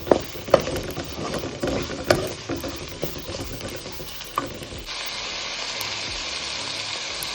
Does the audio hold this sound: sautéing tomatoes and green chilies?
yes